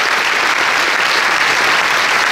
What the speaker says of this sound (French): Vous pouvez applaudir le maire de Boulogne, Pierre-Christophe Baguet